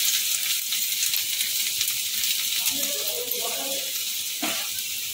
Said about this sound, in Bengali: এটা একটু নেড়ে নেব, হালকা একটু ভেজে নেব।